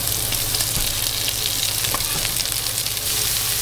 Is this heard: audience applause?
no